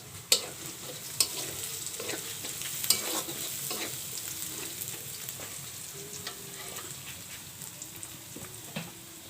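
Onions and whole green chilies frying in a pan for a duck curry, a steady soft sizzle broken by sharp spatula scrapes and clinks against the pan as they are stirred.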